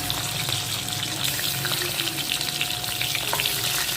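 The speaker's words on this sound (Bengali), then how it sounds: "এখানে এবার আমি চিংড়ি মাছগুলো হালকা করে ভেজে দেবো।" Prawns fry lightly in hot mustard oil with a dense, steady sizzle and occasional popping crackles, close and continuous with no voices.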